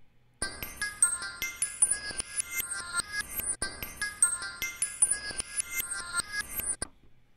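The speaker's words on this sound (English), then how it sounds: "it's going to play the sample forward, and then when it reaches the end, it's going to play it backwards" A bright, chiming synth sample in the Waves CR8 sampler plays a repeating phrase forward, then runs in reverse, with swelling reversed attacks, ending abruptly.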